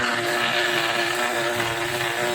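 A person imitating a helicopter with their mouth: a steady, droning engine-like whir with a strong hum, loud and continuous, like a motor or rotor running close by.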